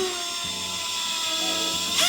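A power drill bores a hinge cup hole into the side of a cabinet carcass, with a steady high whine throughout that rises into a sharper burst near the end as the bit finishes.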